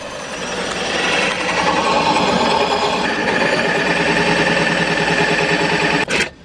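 A power drill with a hole saw grinds steadily and loudly through wood for several seconds, its whine rising near the end before cutting off abruptly.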